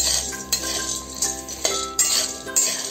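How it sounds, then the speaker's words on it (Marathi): Cashew pieces roasting in a pan, a spatula scraping and clinking against metal about twice a second over a soft frying hiss. "काजूला फक्त थोडस रोस्ट करायचं आपल्याला."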